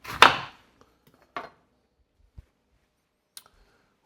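A knife slices a lemon in half on a board, one firm chop followed by a lighter tap and a few faint clicks in a quiet kitchen.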